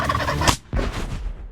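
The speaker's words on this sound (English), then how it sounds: "You don't need to look for a turkey. There's one right there." A wild turkey gobbles loudly and close by in a rapid, rattling burst, then a second gobble follows after a short pause, heard outdoors on open ground.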